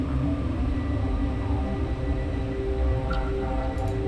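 Steady low rumble of a moving tram in a video game, a continuous droning ride with faint higher tones drifting over it near the end, no voices.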